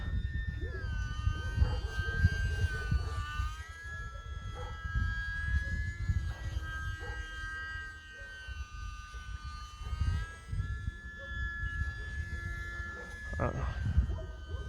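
Small E-flite UMX Timber X RC airplane flying at night in wind, its electric motor giving a steady high whine that rises and falls in pitch, with someone talking over it throughout.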